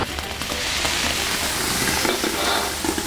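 A Boston lobster, meat side up, sizzles on a hot teppanyaki iron plate, a loud, dense, steady hiss and crackle filling the short stretch without pause; no voices.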